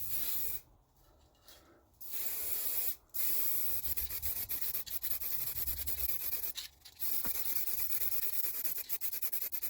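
An aerosol spray paint can hisses as it coats car plastic trim, steady loud spraying broken by several brief pauses where the trigger is released, with no talking.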